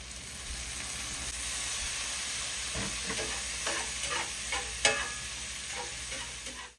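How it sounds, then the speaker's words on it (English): Shrimp sizzle steadily in a pan with butter and a few drops of lemon juice, a continuous close frying hiss with soft stirring scrapes and small spits and pops throughout. "We're also going to add a few drops of lemon juice."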